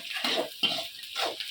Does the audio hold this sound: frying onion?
yes